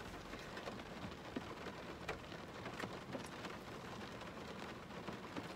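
Steady rain falls on a rainy day, a dense, even hiss with scattered louder drops and patters, fairly quiet and continuous with no voices.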